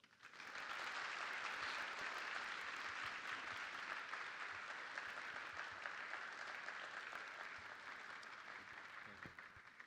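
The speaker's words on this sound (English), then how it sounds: "Please keep clapping, keep clapping" A large audience at a university event claps continuously after a lecture, an even, roomy roar of applause sustained for nearly ten seconds with little change in level.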